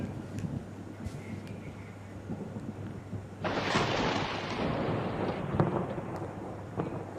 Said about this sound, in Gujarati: ફક્ત 2 કલાકની અંદર વરસ્યો 5 ઇંચ વરસાદ